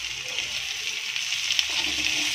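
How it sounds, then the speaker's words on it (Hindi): Garlic paste and finely chopped onion sizzling in a pan, a steady bright hiss of frying that holds at an even level throughout, with no talking. "अब हम यहाँ पे डालेंगे एक चम्मच लहसुन का पेस्ट, इसको भी अच्छे से भूनेंगे हम।"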